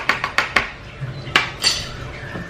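A measuring spoon clinks sharply against a container while a milk drink is prepared, several bright metallic taps in a quick uneven rhythm, close and clear with almost no talk.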